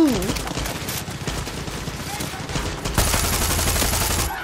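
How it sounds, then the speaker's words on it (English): Rapid gunfire from the video game Far Cry 6, with dense, continuous bursts like automatic weapons throughout and a louder volley near the end, mixed with game sounds. "They're just shooting at that freaking crocodile."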